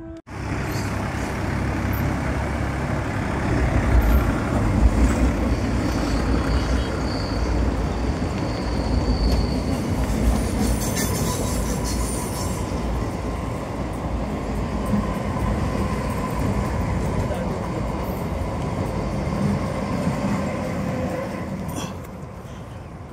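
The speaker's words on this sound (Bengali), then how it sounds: "তার আগে আরামবাগ থেকে আরেকটা ওই আসছে ট্রেন" A train near Arambagh by the Dwarkeswar rail bridge rumbles past for the full stretch, a loud, steady roar of wheels and carriages that swells slightly midway and eases off toward the end, with no talking over it.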